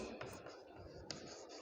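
Brief scratchy strokes of writing on a board during a subtraction lesson for young students, heard close and faint beneath a teacher's ongoing speech.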